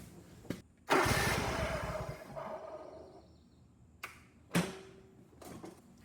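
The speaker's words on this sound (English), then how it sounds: "We're gonna turn the engine over." A John Deere mower engine cranks over in a burst lasting about two seconds and then fades out, followed by a couple of short clicks and mechanical knocks, heard up close.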